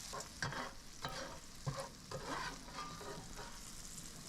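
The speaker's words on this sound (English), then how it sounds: "Once our meat is starting to cook, let's add in all our veg." Meat and vegetables frying in a pan, a steady broadband sizzle with scattered stirring knocks and clatters as the food is moved around, fairly close and continuous without voices.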